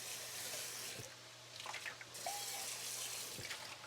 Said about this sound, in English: We rinse this out